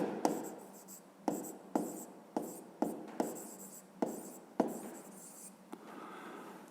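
A pen writes on paper in a quiet room, with a series of soft, close strokes, each opening with a small tap and then scratching briefly, about a second apart.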